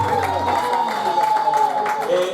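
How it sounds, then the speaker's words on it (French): Wedding guests in a church clap and cheer in a short burst of crowd applause, heard under someone speaking over a microphone. "On applaudit pour la gloire de l'Éternel."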